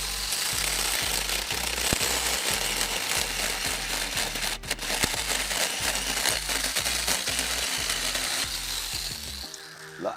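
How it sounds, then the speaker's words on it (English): Inexpensive standalone chainsaw from Temu cutting through wood, a loud, steady, rattling motor drone held continuously with rhythmic chopping pulses throughout, close up and alone without talk. "This standalone chainsaw was the most expensive item that I purchased at over 40 bucks"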